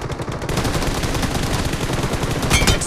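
PUBG Mobile gunfire rattles in loud, rapid automatic bursts, a continuous stream of close shots filling the whole stretch with a sharper cluster near the end.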